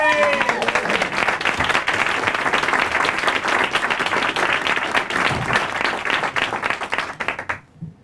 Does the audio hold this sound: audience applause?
yes